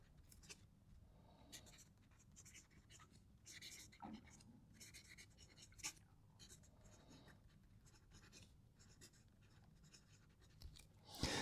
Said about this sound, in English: I'll shut up so you can actually hear the pens writing.